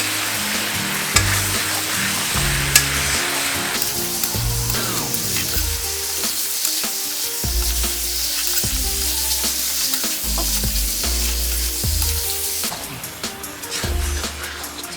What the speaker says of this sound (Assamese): এতিয়া একদম ভালকৈ গোটেইখিনি লৰাব লাগিব